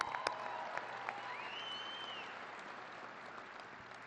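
Commencement crowd applauding, a diffuse, fairly distant spread of clapping that stays steady throughout, with a few sharper knocks near the start.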